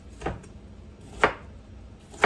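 A knife rough-chopping vegetables for a chicken stir-fry on a cutting board, three sharp, close thuds spaced about a second apart over a quiet kitchen background.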